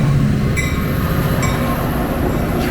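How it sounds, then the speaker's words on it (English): A METRA commuter train rolls past in Lombard with a steady, loud rumble, and faint metallic squeals ring out twice as the cars go by. "That train is running late."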